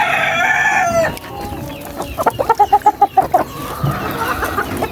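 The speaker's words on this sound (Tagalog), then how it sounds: "At ayan din yung isang inahin." Close chickens squawk and cluck, followed by a rapid run of short rhythmic clucks, then softer calls trailing off.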